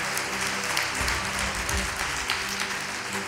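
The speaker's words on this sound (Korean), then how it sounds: "큰 박수 한번 올려주시기 바랍니다." Congregation applauding during a Sunday church service, a dense, steady wash of clapping that carries on evenly for the full few seconds at moderate volume.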